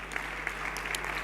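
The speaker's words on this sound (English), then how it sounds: "Let's give them a really, really huge round of applause" At a forum on displacement, a room of conference attendees claps in a brief, even burst of applause, a soft continuous patter with a steady hum beneath it.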